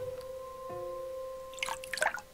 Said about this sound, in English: Fish go in the water.